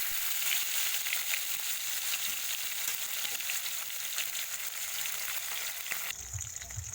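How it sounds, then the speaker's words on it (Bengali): Tilapia fish fry in hot oil with a close, continuous, bright sizzle that holds steady for several seconds. Near the end it drops away to a few low knocks. No one speaks. "দেখো এই তেলেই আমি মাছগুলোকে একটা একটা করে ছাড়বো আমি দুটো মাছ ভেজে নেব"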